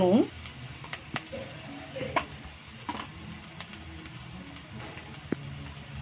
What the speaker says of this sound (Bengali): আমি এটা এবারে একটু ভাজা ভাজা করে নিলাম।